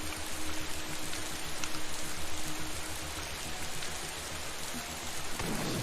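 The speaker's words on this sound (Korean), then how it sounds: "거울 전쟁 참 마음에 드는 거는 빗소리가 아주 시원해. 진짜 비 내리는 것같아" Steady, dense rainfall in the video game Mirror War (거울전쟁) patters continuously across surfaces, a full wash of hiss with a faint low rumble underneath and no voices.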